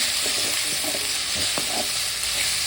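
A tomato rice mixture fries in a pan with a constant close sizzle, broken by short scraping and clattering strokes as it is stirred.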